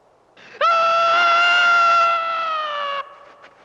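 A boy screams in a 1978 horror film, Damien – Omen II: one long, loud, piercing sustained cry held for over two seconds, starting sharply and trailing off, alone against near silence.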